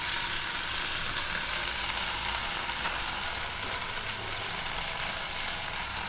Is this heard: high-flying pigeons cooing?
no